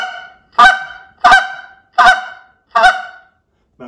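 Low, deep honks from a goose call blown by a caller sound four times in quick succession, roughly seventh-tenths of a second apart, loud and close with a brief fifth note starting at the end, no voices present.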